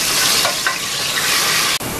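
Chopped garlic, two to three tablespoons, frying in hot oil in a pan as it browns for a long beans recipe; a steady, close sizzle runs throughout with soft stirring scrapes and a brief dip near the end.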